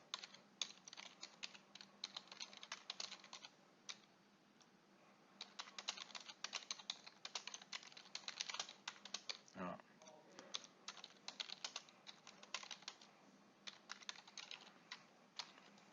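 Typing on a computer keyboard while entering an invoice description. Rapid, uneven bursts of close, crisp key clicks fill the whole stretch, with a few brief pauses and one soft thud near the middle.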